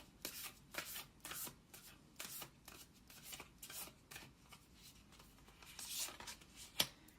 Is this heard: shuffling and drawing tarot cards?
yes